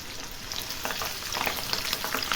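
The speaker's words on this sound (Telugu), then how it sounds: "లాస్ట్లో కొంచెం కరివేపాకు కూడా వేయించుకుందాం." Curry leaves and chillies frying in hot oil, a close crackling sizzle that grows busier with sharp spitting pops, no talking.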